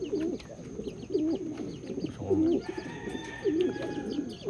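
Pigeons coo repeatedly nearby in soft, throaty phrases, with faint chirps and background birdsong.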